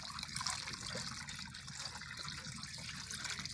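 Cold water is poured over cooked vermicelli in a strainer, a soft steady trickle and splash, faint and continuous, with no talking.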